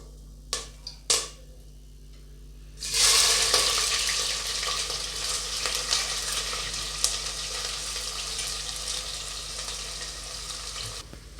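A few sharp clinks at first, then chopped onion drops into hot oil already holding cinnamon, cloves and a bay leaf for tomato bath. A loud burst of sizzling follows and settles into a steady close frying hiss.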